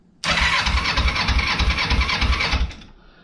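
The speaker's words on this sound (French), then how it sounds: "Déjà, le démarreur se lance." A 1996 Kawasaki ER5 motorcycle's starter motor cranks the engine in a loud, close, steady whirring burst of about two and a half seconds, pulsing rhythmically before cutting off abruptly.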